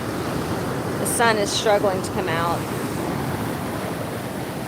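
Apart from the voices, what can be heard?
choppy ocean waves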